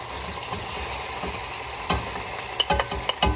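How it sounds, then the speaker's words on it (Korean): Onions stir-frying in a new Tefal frying pan, a continuous close sizzle broken by sharp scraping and clacking stirring strokes that grow more frequent toward the end, with no talking. "양파를 볶다가"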